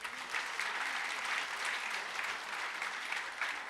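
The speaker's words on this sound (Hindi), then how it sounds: "तो इस 5 फिंगर कॉन्सेप्ट के लिए एक बार जोरदार से तालियां" A steady, dense wash of audience applause fills a hall during a talk on spirituality and meditation, many hands clapping at an even level throughout with no voices over it.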